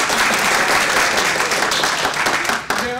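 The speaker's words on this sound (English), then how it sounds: "a round of applause for the candidates." An audience at a women's judicial candidate forum gives sustained, dense applause, loud and steady throughout before beginning to thin out at the end.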